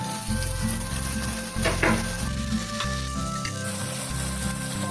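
Tomatoes go into a pan of frying onions with a loud, continuous close sizzle and a few stirring clinks, with no voices.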